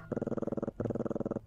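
A pet cat purrs in the video game Gibbous, a close, soft, rhythmic purr in two long pulsing bursts with a brief pause between them.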